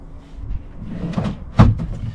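A small storage drawer on a boat, holding flares and fuses, slides and knocks shut with a few soft wooden bumps and one sharper clunk near the end, close by and with no talk.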